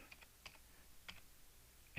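Light typing on a computer keyboard, a sparse, irregular string of quiet key clicks in a calm room.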